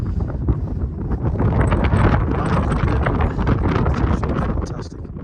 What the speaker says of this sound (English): Wind's picking up.